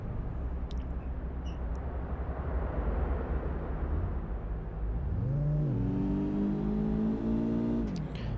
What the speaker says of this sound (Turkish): Araba iyi gazlıyor ya.